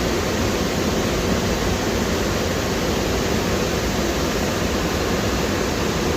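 Rushing flood water near a road in a hill village, a dense, steady roar of churning water that stays loud and unbroken throughout.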